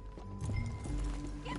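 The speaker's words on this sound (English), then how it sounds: "back on your horse, John." Horse hooves clip-clop in Red Dead Redemption 2, a steady trotting rhythm close up over low game ambience, with a brief whinny-like sound and faint background noise throughout.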